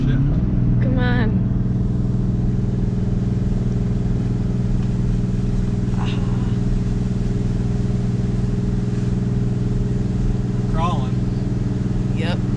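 A heavily loaded vehicle engine labours and revs steadily uphill on a driveway while hauling stone, a loud continuous drone with a few brief clanks over it and occasional speech.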